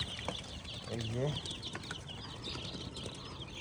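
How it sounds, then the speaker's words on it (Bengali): Chickens on a poultry farm with about 2000 birds, a dense background of clucks and chirps along with wing rustles, while someone speaks briefly close by. "এখানে মোট 2000 মুরগি আছে"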